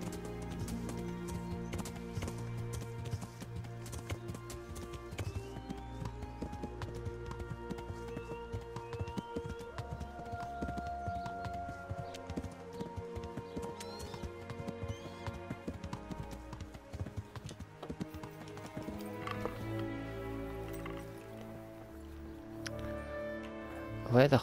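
Horse hooves clip-clop in a steady trotting rhythm in the medieval game Kingdom Come Deliverance, with game music playing over them and a commentator talking throughout.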